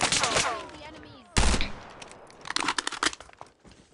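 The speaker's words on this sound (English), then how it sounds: "Oh, I'm getting shot at." Gunfire in an online shooter game, a burst of rapid shots up front, a sharp loud report, then a scattered cluster of cracks, all fairly quiet with a voice talking over the start.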